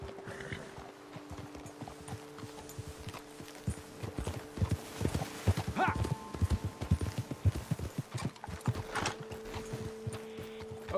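Horse hooves clip-clop steadily at a walking pace in a video game, growing busier midway, with a low hum and occasional voices or animal sounds in the background.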